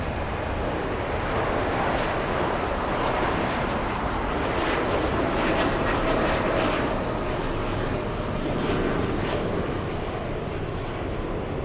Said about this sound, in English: Let's go for the 787 Hawaiian Airlines, flying to Honolulu.